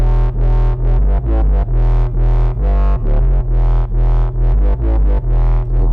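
A dub music mix fed through a drive distortion effect: loud, heavily saturated bass and chords pulsing in a steady rhythmic pattern with a thick, gritty tone.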